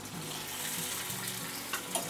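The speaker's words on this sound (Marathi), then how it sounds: "त्याच्यामध्ये बघा हे 5 बटाटे घेतलेले आहेत, शिजवले आणि साल काढून कापून घेतलेले आहेत। हे टाकून घ्यायचे तेलामध्ये" Five boiled, peeled and cut potatoes tipped into hot oil, frying with a continuous close sizzle and a couple of brief louder crackles near the end.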